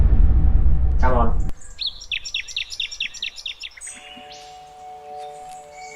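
A mimicking songbird pours out a rapid run of repeated bright chirps and whistled phrases, close and clear, after a person briefly speaks at the start.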